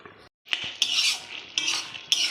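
A lid goes onto a pan of prawn curry with a series of close metallic clinks and scrapes, followed by a bright clatter, with no voices.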